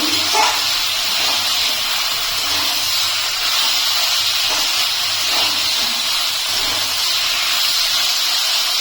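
Water lily stems with salt and slit green chillies fry in a pan, giving a steady, fairly loud sizzling hiss that holds evenly throughout with faint stirring touches.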